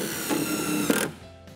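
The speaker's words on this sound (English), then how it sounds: "take a couple screws and drill into the joist to attach the housing" A power drill whirs steadily for about a second, then winds down, with a faint mechanical ratcheting as it drives screws into a wooden ceiling joist.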